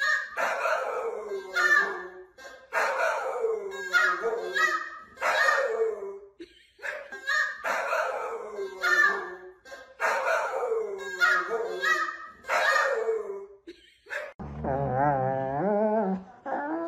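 A dog barks and howls in repeated drawn-out bursts with short pauses between them, loud and close, and ends with a long wavering howl.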